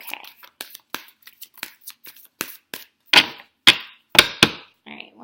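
Quick irregular riffling and snapping as a deck of tarot cards is shuffled close up, with sharper bursts toward the end and a brief voice.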